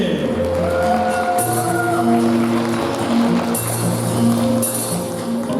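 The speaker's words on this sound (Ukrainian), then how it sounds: "Оплески!" An audience at a New Year's celebration with a presenter and Saint Nicholas claps steadily, a loud sustained round of applause with a musical backing underneath.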